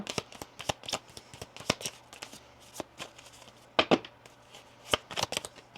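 Tarot cards are shuffled and laid out by hand, a run of quick, crisp riffles and flicks in uneven bursts, close and fairly quiet, with no talking.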